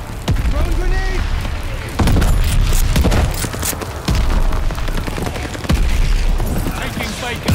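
Call of Duty: Vanguard battle audio: heavy booming blasts and rattling gunfire pound continuously and loudly, with voices talking over the din.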